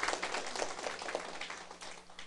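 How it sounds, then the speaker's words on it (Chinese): A seated audience at a lecture breaks into brief scattered clapping, a quiet, distant patter of hands lasting a couple of seconds. "拍手"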